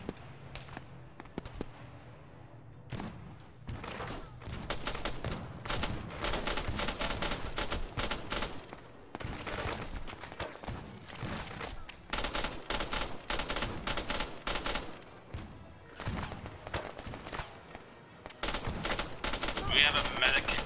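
Gunfire in the video game Arma 3, bursts of automatic weapon fire and scattered single shots in rapid clusters, with players talking over the shooting.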